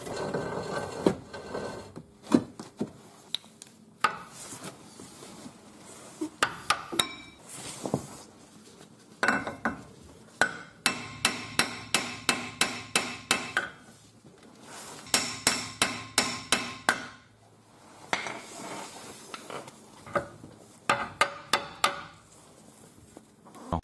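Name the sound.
hammering on a pry bar to remove a riveted suspension ball joint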